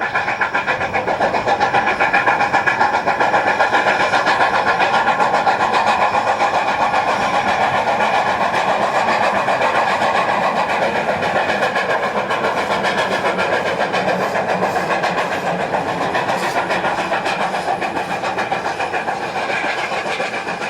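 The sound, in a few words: Grand Canyon Railway 4960 steam locomotive running on its test run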